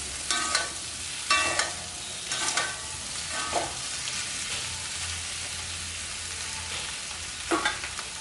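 Chettinad potato fry roasting in oil, a low steady sizzle with several scraping stirs of a spatula against the pan at irregular intervals, fairly close and with no talk.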